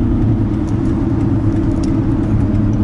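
A 2000 Ford Taurus LX V6 sedan cruising at highway speed under 2,000 RPM, its engine a steady low hum blended with constant road and tire drone, heard from inside the cabin with no talking.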